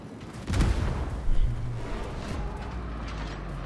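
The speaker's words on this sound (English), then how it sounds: "All forces requesting cover fire" Artillery cover fire in a video game, a sudden heavy boom followed by another blast and rumbling echoes, dying into a low roar.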